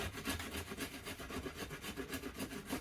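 A rasp files rhythmically across yew bow wood, quick repeated rough scraping strokes close up, a dry gritty rubbing with steady back-and-forth pulses.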